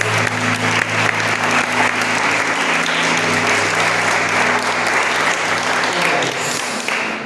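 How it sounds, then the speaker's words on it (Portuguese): Sustained applause from a church congregation during a service, steady and dense throughout, with a low sustained organ or keyboard tone underneath that fades near the end. "Aplauda ao Senhor em nome de Jesus."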